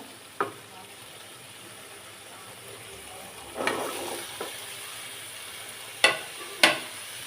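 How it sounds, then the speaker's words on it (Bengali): Taro stolons stirred into a cooked spice paste in a pan, with a low steady sizzle and a few sharp clacks and scrapes of the spatula, close by and otherwise quiet. "কচুর লতিটা দিয়ে একটু ভালো মতো মশলার সাথে মিক্স করে নিতে হবে"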